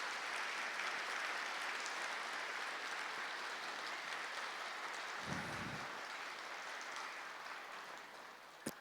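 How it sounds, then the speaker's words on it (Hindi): An audience at a spiritual talk applauding together, a continuous wash of many hands clapping that stays faint and distant for several seconds before tapering off. "सभी एक बार जोरदार तालियां बजाएंगे, जोरदार तालियां बजाएंगे"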